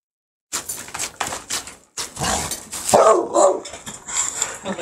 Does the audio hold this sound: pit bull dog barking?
yes